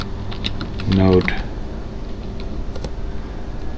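Typing on a computer keyboard to run a program, a short burst of clicks that sits under a voice, followed by a few faint scattered taps.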